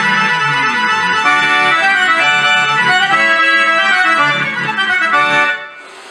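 An accordion plays a bright, fast passage loudly, with dense sustained chords and a lively melody close up, then cuts off abruptly near the end.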